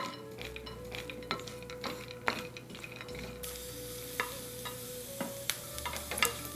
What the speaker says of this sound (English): whole blanched almonds and 3 tablespoons of pistachios. We'll saute